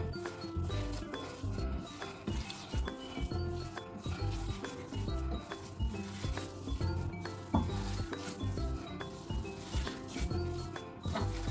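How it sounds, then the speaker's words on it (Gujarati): Sesame seed mixture with sesame oil being kneaded and squeezed by hand, producing soft, repeated rubbing and pressing sounds in an uneven rhythm, faint and close with no speech. "બરાબર મિક્સ કરી અને મસળી લઈએ"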